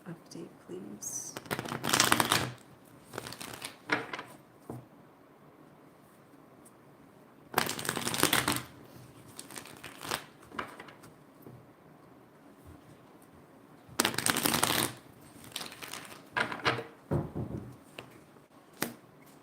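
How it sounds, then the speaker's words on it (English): A tarot deck is shuffled in three separate bursts of quick riffling card flutter, close and crisp, with someone talking softly between and over them. "Did you guys see how many times I shuffled that deck just now?"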